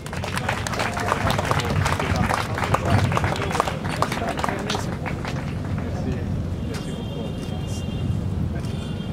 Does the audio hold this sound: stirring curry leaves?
no